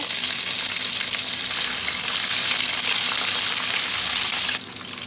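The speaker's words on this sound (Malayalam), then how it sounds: "അരിഞ്ഞു വെച്ചിട്ടുള്ള പച്ചക്കറികൾ ചേർക്കുക മുരിങ്ങയ്ക്ക ചേർക്കുന്നുണ്ട് കുറച്ച് ചെറിയ ഉള്ളി ചേർത്തിട്ടുണ്ട് പച്ചമുളക് ചേർക്കുന്നുണ്ട് അതെല്ലാം ഈ വൺ എണ്ണയിൽ ഒന്ന് വഴറ്റുക" Drumstick, shallots, green chillies and chopped vegetables sauté in hot oil for a close, loud, continuous sizzle that drops in level just before the end.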